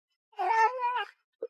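Cat giving one drawn-out, wavering meow close up, followed by a brief short chirp, in an otherwise quiet room.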